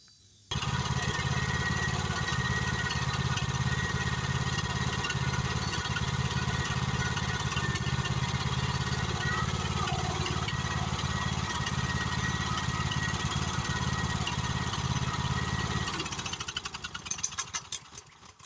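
Riding lawn mower powered by a Kohler Courage engine cutting grass, a loud, steady, continuous engine drone lasting about fifteen seconds before tapering off into uneven sputters.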